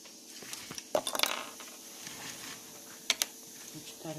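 Sharp metallic clinks and clatters of a pot, a few scattered hits with quieter rustling between them.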